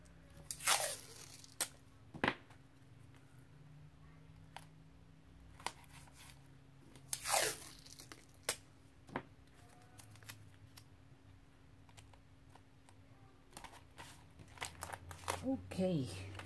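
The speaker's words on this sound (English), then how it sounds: "I'm going to mask it with a masking tape" Masking tape torn from the roll and pressed onto an art journal page, heard as a few sharp crinkly rips and quiet rustles spread apart, close and fairly soft, with a steady faint hum beneath.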